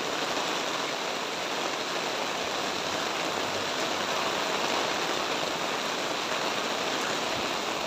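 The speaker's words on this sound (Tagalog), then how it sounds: "Hala, ang lakas ng ulan." Heavy rain pours down in a dense, steady hiss, loud and unbroken throughout with no voices.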